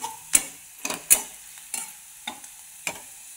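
A spoon stirs turmeric and red chili powder into green tomato chutney in a hot pan, making about six distinct scraping strokes, close and fairly loud, with a faint sizzle between them and no talking.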